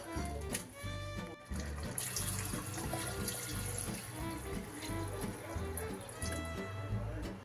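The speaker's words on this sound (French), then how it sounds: "Bien sûr, toujours de l'eau chaude, jamais de l'eau froide." Hot water pours steadily into a cooking pot for chorba au vermicelle, a continuous splashing, gushing stream that runs throughout at moderate loudness.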